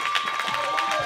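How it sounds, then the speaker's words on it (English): A church congregation claps to welcome Pastor Eric L. Jackson to the front: quick, dense bursts of hands close by, with crowd voices and a steady tone underneath. "Give God a thunderous hand clap as we welcome up our man of God"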